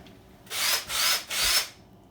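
A power drill fitted with a stirring adapter whirs inside a carboy of homemade kit wine, three loud bursts of about half a second each separated by brief pauses, with no talking.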